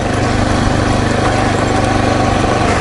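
The trusty old KLR motorcycle's engine runs close and loud at a steady idle-like chug, a continuous rough rumble with no pauses.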